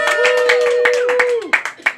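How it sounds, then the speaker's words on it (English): A comedy club audience claps in quick, sharp bursts while a sustained voice runs over the top, and the clapping thins into a few scattered claps at the end. "That's a good clap ratio for me, I think."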